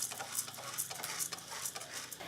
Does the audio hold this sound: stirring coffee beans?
yes